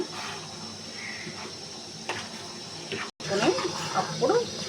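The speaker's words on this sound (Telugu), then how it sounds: "వాటర్ ఒకటి యాడ్ చేస్తున్నాను" Water streams into a pot of chicken curry with a steady splashing rush, while a person talks faintly in the background.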